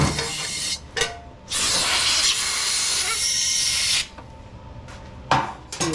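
Compressed air blasts through a Powersmart DB7 snow blower carburetor: two short loud hissing bursts, then one long sustained roaring hiss of about two and a half seconds, and another short burst near the end.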